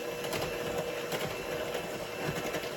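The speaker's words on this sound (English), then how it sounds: "I'm just going with the mixer. And just mix it until it's all incorporated good" An electric hand mixer beats strawberry cream cheese muffin batter in a bowl, giving a steady mechanical whir with a rhythmic, slightly pulsing hum and no talking.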